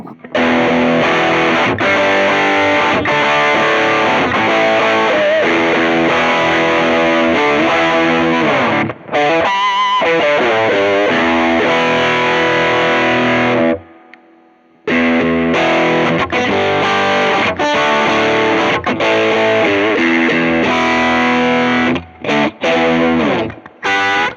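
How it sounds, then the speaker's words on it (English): Heavily distorted Fender Tom Morello Soul Power Stratocaster on the bridge pickup through a high-gain amp, chugging and riffing loudly, with a brief pause midway before resuming; no voice over it. "let's turn up the gain on the amp, see what that sounds like"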